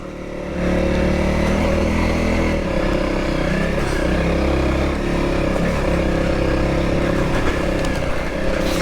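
A motorcycle rides an off-road trail, its engine droning loud and steady close by, with slight shifts in pitch as the throttle varies and faint clatter over rough ground.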